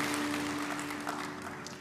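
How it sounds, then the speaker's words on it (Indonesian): A congregation applauds during a church sermon, a steady wash of many hands clapping at moderate distance, soft and continuous under a faint low hum. "Berikan tepuk tangan yang meriah untuk Tuhan kita"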